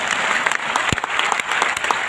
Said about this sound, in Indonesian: Kita berikan tepuk tangan kepada Tuhan.